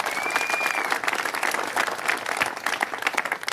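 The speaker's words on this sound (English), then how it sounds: "Let's give a big round of applause because they're the driving force behind all of this." An audience at a California film tax incentive event claps loudly and densely the whole way through, as sustained applause from a crowd.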